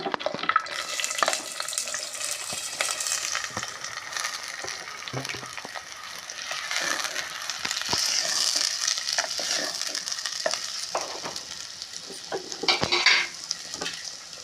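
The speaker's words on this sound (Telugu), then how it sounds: "ఇలా కోసిన కట్ చేసిన ఇగో ముక్కలు వేస్తున్నానండి" Cut pieces of onion sizzling as they go into a pan for a mutton and raw mango curry, a steady bright hiss with spoon scrapes and a few clatters, plus a brief faint voice.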